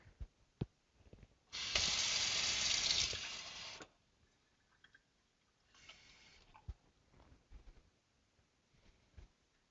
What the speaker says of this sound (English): to a container, you're going to actually add about 1/4 cup of water